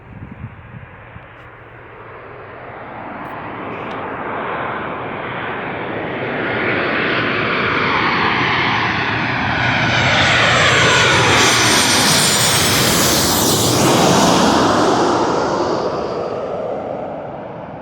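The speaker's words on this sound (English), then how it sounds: "Looks like a Southwest Airlines 737." A Southwest Airlines Boeing 737 jet passes directly overhead at night, its engine roar swelling from a distant rumble to a loud, broad sweeping whine at closest approach and then slowly easing away.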